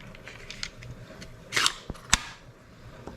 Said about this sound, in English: I'm gonna pop those into my gun.